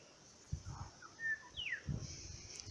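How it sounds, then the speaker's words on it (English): A bird chatters outdoors beside a flowering canola crop, giving a few faint, scattered chirps and short whistles over quiet background rustle, with no voices. "bird chatting away"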